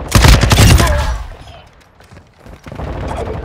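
Light machine gun fire in a first-person shooter, a loud rapid burst up front that fades, then heavier firing picking up again near the end.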